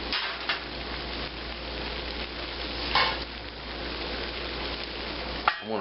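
A chicken cutlet for piccata frying in a pan, a steady loud sizzle with scattered pops and crackles, ending in a brief clatter.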